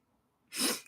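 A single quick, breathy sneeze bursts out close by after a moment of near silence.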